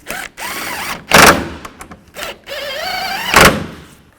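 Bolts on the radiator brackets of a 2011-15 Kia Sorento are tightened, with two short, loud bursts of ratcheting or power-tool whirring between quieter mechanical clicks and rattles, all close by.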